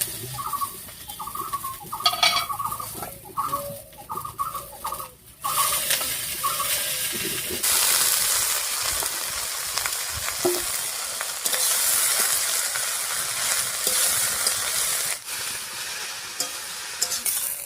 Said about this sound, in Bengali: ফোড়নটা একটু ভাজা হয়ে গেছে, এবার শাকটা দিয়ে দিচ্ছি।